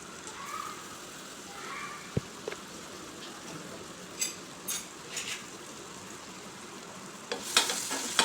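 Ginger garlic paste sautés in butter for a chicken curry, a soft, steady frying hiss with a few clinks and scrapes of a spoon against the pan and a brief louder sputter near the end.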